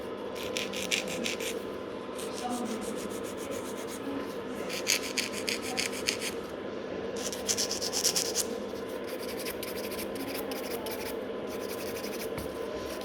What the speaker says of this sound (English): pretty long file movement, like this way I kind of reach a bigger surface. Scratch the natural nail plate.